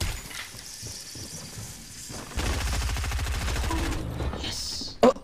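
Rapid gunfire from another player shooting in a video game, steady bursts of shots filling the middle of the clip, with a sharp louder blast near the end.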